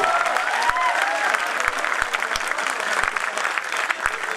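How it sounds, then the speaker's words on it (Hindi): Audience applause at a Hindi poetry gathering (kavi sammelan), children among the crowd clapping with raised hands; dense, steady clapping fills the whole stretch with a few sharper individual claps standing out. "वो बच्चे जो हाथ उठाकर तालियां बजा रहे हैं"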